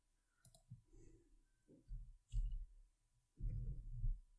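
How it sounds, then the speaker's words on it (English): Computer mouse clicks while setting virtual memory in Windows 7, a few short sharp clicks close by among soft low handling thumps and pauses, with no talking. "Now click on set and you can see, then click on OK, then click on OK"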